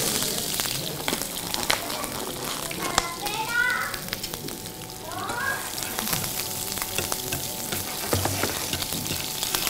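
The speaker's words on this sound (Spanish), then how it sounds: "voy a saltear un poquito la cebolla" Onion sautéing in a pan during a cooking demonstration at a mushroom festival, a steady frying sizzle running throughout under background chatter and children's voices.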